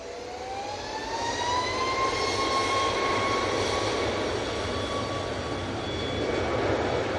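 Ryanair jet airliner touching down at Manchester Airport, a loud sustained engine roar with a rising whine that swells and holds as it passes nearby.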